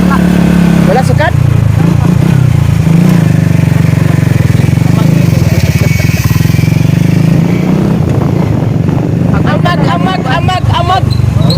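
A loud motorcycle engine rumbles steadily up close, with people talking over the drone throughout.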